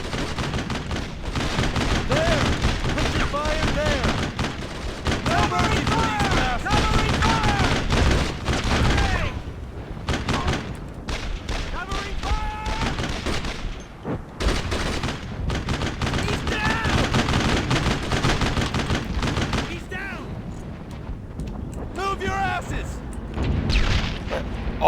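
Gunfire and explosions from the World War II shooter Brothers in Arms: dense, continuous bursts of rifle and machine-gun fire with heavy booms, loud throughout, mixed with shouted combat voices and game dialogue.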